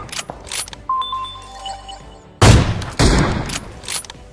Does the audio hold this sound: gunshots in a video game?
yes